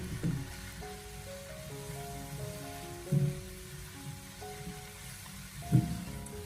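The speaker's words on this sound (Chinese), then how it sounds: "然后再立刻调为大火，把它快速的进行翻炒，给它充分的翻炒均匀，给它炒出锅气。" Pork and Shanghai bok choy stir-fried in a wok over high heat give a steady hiss of sizzling, with three heavier clanks of tossing spaced a few seconds apart and faint background music.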